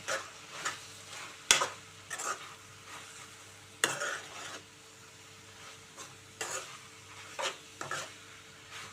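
Brinjal and tomato curry with chilli and coriander powder gets stirred in a pan, producing close, intermittent scrapes and thuds of a spoon against the pan with soft sizzling beneath.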